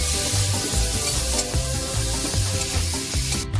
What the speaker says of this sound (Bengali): দিচ্ছি কুচানো পেঁয়াজ দিয়ে একটু ভাজা ভাজা করে নেব